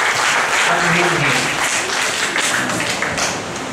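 Loud, dense applause from a church congregation fills a few seconds, with sharp claps close by and faint voices mixed into the wash.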